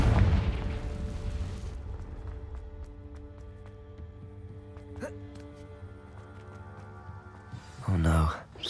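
A Confringo fire spell blast in a video game, heard as a loud burst at the start that decays into a lingering rumble, with a second sharp blast near the end; speech is also present.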